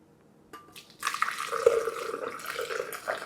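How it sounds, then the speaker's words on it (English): Boiled milk and water poured into a blender for a morning drink, a steady close liquid splash starting after a brief knock and continuing to the end. "we're going to go ahead and put that in the blender"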